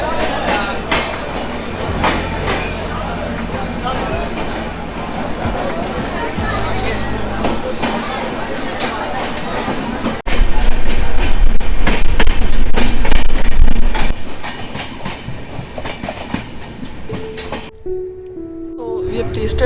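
Vaishali Express of Bihar rolling along the rails on a winter journey, with steady rumble and rhythmic clickety-clack that swells louder midway, then fades toward a quieter end as the train slows.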